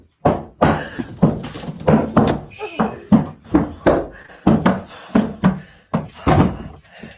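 Heavy banging on a door in a reputedly haunted house, a run of loud, uneven thuds spread across several seconds, with people talking over and between the knocks.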